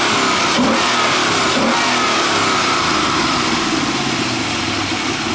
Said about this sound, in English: We'll go ahead and rev it up.